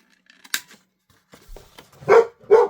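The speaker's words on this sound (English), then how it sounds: "my husband just got home, so the dog's going crazy" A pet dog at home barks excitedly, a few sharp yips followed by two louder, close barks near the end against an otherwise quiet room.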